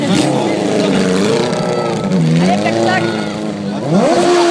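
Hill climb vehicle at an impossible-climb event in Munster, engine held at full throttle with a loud, straining roar whose pitch wavers and climbs, close by, under a crowd of spectators shouting encouragement.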